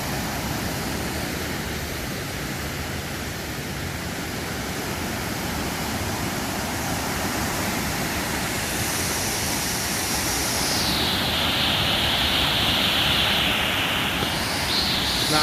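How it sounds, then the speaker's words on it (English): Fast-moving floodwater in Lee County, Virginia rushes past loud and close, a dense, unbroken roar that swells slightly over its duration with no talk. "exactly how high the water is right here. It's moving extremely fast,"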